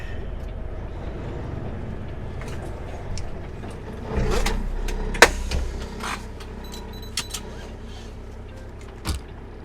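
A truck pulls in to park on a winter mountain pass: a steady low engine rumble with vehicle movement, a louder swell midway, and several sharp clicks and knocks toward the end.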